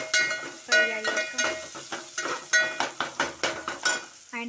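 Onions with ginger-garlic paste fry in a pan for a bean curry, a spoon scraping and clinking against the metal in repeated strokes over a soft sizzle, with no talking.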